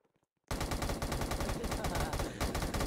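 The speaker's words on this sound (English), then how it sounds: "Is that an LMG you've got there?" Light machine gun firing in a video game, a sudden loud sustained burst of rapid automatic shots after a short stretch of quiet background.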